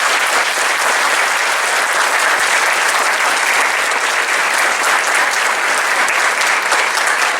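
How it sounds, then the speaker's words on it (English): An audience at a school Independence Day celebration claps loudly and steadily throughout, a dense, continuous applause of many hands with no pause. "Can we have a big round of applause for them?"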